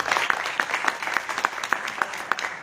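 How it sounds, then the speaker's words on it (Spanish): An audience applauds at a Spanish-language book presentation, a steady burst of many hands clapping at close range, loud and continuous for a few seconds without talk. "Un fuerte aplauso."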